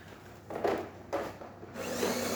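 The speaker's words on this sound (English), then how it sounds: "So yeah, starting with one shot of espresso, we're gonna be testing this machine out." A Jura ENA Micro 1 coffee machine pulls a shot of espresso, with short whirring, grinding bursts that give way to a steadier pump hum, fairly quiet and close.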